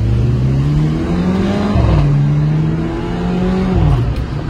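A loud Mercedes A45 AMG Edition 1 engine revs and pulls through gears, pitch climbing then dropping at each shift with rough crackling bursts from the exhaust.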